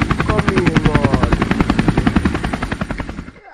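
A helicopter's rotor beats in a fast, steady chopping pulse, loud and close, holding for about three seconds before cutting off abruptly at the end.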